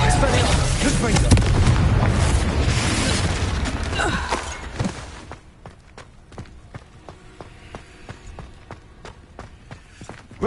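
A Confringo fire spell explodes in the Hogwarts Legacy video game, a loud booming blast with rumbling debris that fades into quieter scattered impacts and footstep-like clicks.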